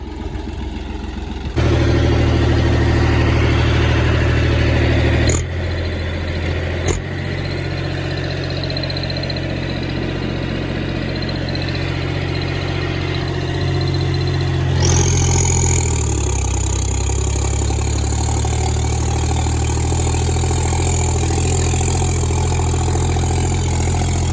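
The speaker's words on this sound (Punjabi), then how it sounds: "ਦੂਜੇ ਹਾਈ ਗੇਅਰ 'ਚ ਚਲਾਇਆ ਆਪਾਂ 50 50 ਦੀ" A John Deere 5050 tractor engine runs steadily in second high gear, a loud continuous diesel drone that steps up in intensity early on and holds with a slight shift in pitch partway through.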